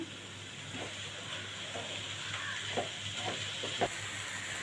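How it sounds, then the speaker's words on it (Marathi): Onion and tomato masala paste roasting in a pan over a medium gas flame, a steady soft sizzle with faint hiss and a few light stirring scrapes. "मी मिडियम गॅसवर हा वाटण भाजून घेते"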